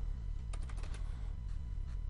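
Quick soft taps of typing on a computer keyboard, a short run of close keystrokes over a low steady hum, with no talk.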